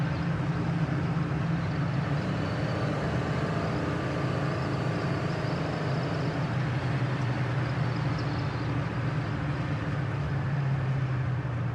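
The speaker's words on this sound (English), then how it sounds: "There's your high-speed braking. No pull left or right." A 1968 Ford Mustang California Special with a 289 V8 cruising at high speed and braking, giving a steady, continuous rumble of engine, road and wind noise heard from inside the car with no voices.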